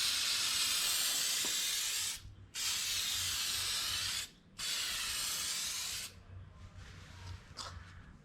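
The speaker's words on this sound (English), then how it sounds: "Alright, so we're gonna hit it with this. It's a clear coat." Aerosol clear coat sprayed onto a car headlight in three long, loud hissing bursts with brief pauses between them, followed by quieter softer spray sounds and faint handling noise.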